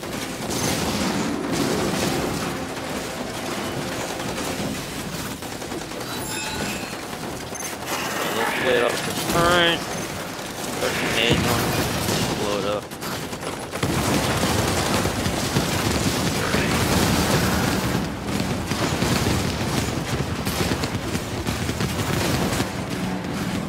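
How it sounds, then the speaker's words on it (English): Bursts of gunfire and heavy orbital strike explosions in the game LiveLock, dense booming and rattling shots that rise and fall in waves, with voices talking over the action at times. "That orbital strike is insane."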